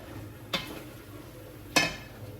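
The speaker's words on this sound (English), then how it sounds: "Give it a stir." French onion soup being stirred in a pot, with two distinct scraping clinks of a utensil against the pot about a second apart over a quiet low background.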